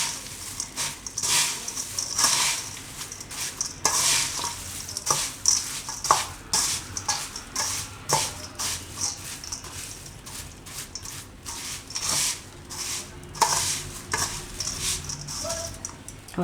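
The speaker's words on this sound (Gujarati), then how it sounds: "તો આ બધું આપણે મિક્સ કરી લઈશું" Pava bhel ingredients of flattened rice and mixings are tossed together in a bowl with a spoon. The close, dry crackling and scraping comes in irregular bursts over about sixteen seconds, with light clinks against the bowl.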